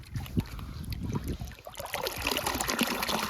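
Water gushes and splashes out of a motor pump into a drained shallow coastal pit used for catching fish, a continuous churning trickle that grows louder and denser in the second half.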